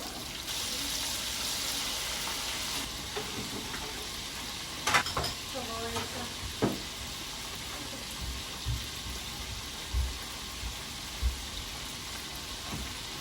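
A batch of calamari drops into hot frying oil, a bright bubbling sizzle at first, then quieter frying with occasional pops and clunks of utensils, moderately close with no clear speech.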